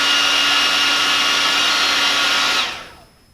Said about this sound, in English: Hit it with a blow dryer.